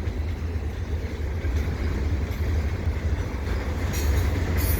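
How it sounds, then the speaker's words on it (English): A CP freight train rumbles past beneath the Dorval highway ramps, a loud, continuous roar of wheels and cars with faint rail squeal near the end and no talking. "There it goes underneath the Dorval ramps."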